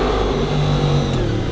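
A car drives around a corner on cold tires with a steady, loud engine drone. The drone holds at an even level close by, with no clear squeal standing out.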